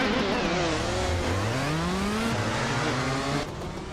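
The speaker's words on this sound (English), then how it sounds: "Lisa Shibi is leading the race in a 2012 shifter kart." A 2012 shifter kart races with its engine screaming loud and close, pitch rising and falling through gear shifts over a continuous roar for about four seconds.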